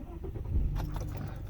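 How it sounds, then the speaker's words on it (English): A 1997 Mercedes-Benz S320 cranks and fires up close by, a short low mechanical churn that catches and swells into a running engine within about a second. "She starts right up."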